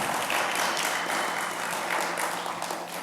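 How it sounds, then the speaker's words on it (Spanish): Applause for the Lord fills a church service, a steady wash of many hands clapping at close range that holds for the full few seconds without a break. "Dele un aplauso al Señor si está aprendiendo."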